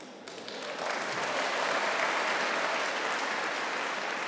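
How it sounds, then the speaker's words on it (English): A church congregation claps during a Sunday homily, applause swelling quickly to a full, steady roar of hands that holds to the end. "I don't know what you're clapping for"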